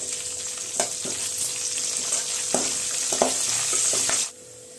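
Cashews and ground pepper sizzle in hot fat in a pan while tempering pongal, a steady close frying hiss broken by sharp clicks and scrapes of stirring before the sizzle drops away.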